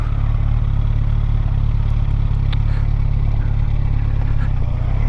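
A 2007 Yamaha FZ1 motorcycle rides along a road, its engine a loud, steady low drone blended with wind rush, with a few faint clicks over it and no speech.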